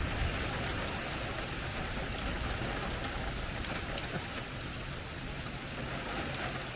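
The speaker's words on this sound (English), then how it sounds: "It's really been raining." Steady, heavy rain pours down on a dispersed campsite near Clints Well, Arizona, a dense, even hiss of drops hitting surfaces, close and unbroken.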